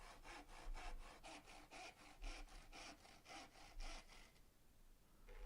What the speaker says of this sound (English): So I marked up how much I wanted to cut and used a handsaw.